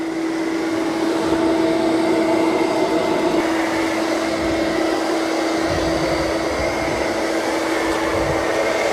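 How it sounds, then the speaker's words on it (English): A robot vacuum cleaner, either a Eureka E10s or a Roborock Q7 Max+, vacuuming a floor with its side sweepers, producing a loud, steady motor whine and airflow hum close by and unbroken throughout, with no talking. "So the vacuuming's doing a really good job."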